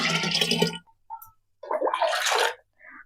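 Water poured into a homemade black grape wine mix, two short splashing gushes separated by a brief gap, fairly close and moderately quiet, with no talk over them.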